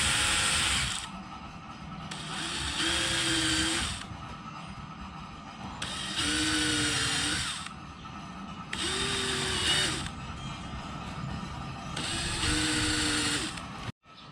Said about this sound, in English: I'm just gonna go ahead and drill a pilot hole for all the tacks